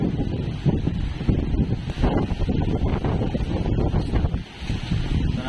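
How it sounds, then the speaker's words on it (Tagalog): Strong gusting wind from Typhoon Opong roars and buffets the microphone steadily, a loud, turbulent, whistling rush with rising and falling gusts. "Sumisipol ng hangin."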